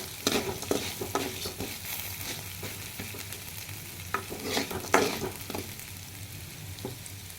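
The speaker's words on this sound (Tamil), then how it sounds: "உளுத்தம்பருப்பு தேங்காயும் கூடவே வதங்குது." Urad dal and grated coconut sauté in a pan for kothamalli chutney, a soft continuous sizzle broken by frequent scraping and stirring clicks from a spoon, close and without talk.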